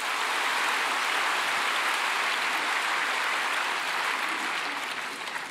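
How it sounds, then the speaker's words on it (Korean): A church congregation applauds in welcome as two members come forward to give testimony before their baptism: steady, dense clapping that fills the hall evenly and fades slightly at the end, with no voices over it. "나오실 때 우리 박수로 환영하겠습니다."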